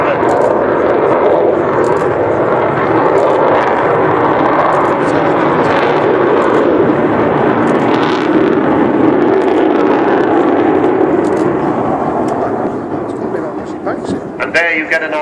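A loud Avro Vulcan bomber, XH558, roars continuously overhead during an air show display at Southport, a broad rumbling wash that begins to fade near the end.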